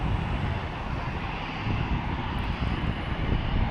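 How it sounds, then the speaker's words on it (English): Boeing 737-800 jet engines roar loudly and steadily at an airport, a dense broadband rumble that holds constant with no pauses. "Let's see how loud this 737-800 is."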